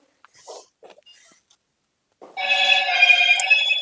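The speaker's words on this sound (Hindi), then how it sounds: "भाभी फोन बाजा है देखिए एक बार।" A phone rings in a Haryanvi family drama household setting, a steady sustained electronic ringtone starting after a brief pause, loud and alone after a few faint noises.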